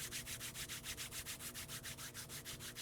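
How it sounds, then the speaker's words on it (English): Palms of the hands rub briskly together to build heat, a steady rhythmic swishing of about six strokes per second, close and quiet, with no voices. "Bring the palms of your hands to connect in front of your heart and start to rub them together to generate some heat."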